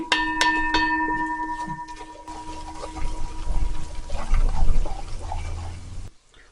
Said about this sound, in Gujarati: થોડું આપણે પાણી એડ કરીએ કે જેથી આપણો સૂકો મસાલો બળી ના જાય